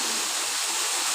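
Water cascading at a waterfall beside a temple, a steady, dense rushing roar heard close up with no break or voices.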